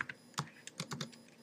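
Objective-C code being typed on a Mac computer keyboard in Xcode: quick, close clicks of keys in an uneven burst of about a dozen strokes, soft and clear without voices.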